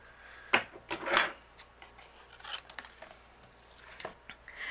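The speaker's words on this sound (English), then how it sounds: "Trim off the excess." Scissors trim excess paper on a mixed media craft card, a few soft close snips and rustles of paper amid quiet handling noises.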